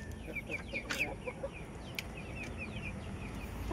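A Shamo rooster in molt clucks repeatedly in short, rhythmic bursts at close range, with a faint background hum and no talking.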